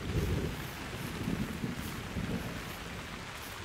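Rain in the hunting video game theHunter: Call of the Wild, a steady, dense downpour hiss with a low rumbling undertone like distant thunder, continuous and fairly loud with no voices.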